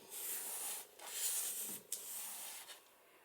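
Tape hinge being burnished down onto a handmade book with plastic pockets, giving close, steady rubbing strokes in a few continuous passes with brief pauses, alone without talk.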